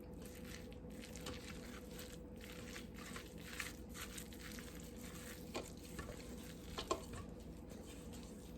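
A spoon stirring crab rangoon filling in a bowl, producing soft, wet squishing and scraping in an even rhythm, faint and close, with a few small clicks against the bowl over a low steady hum.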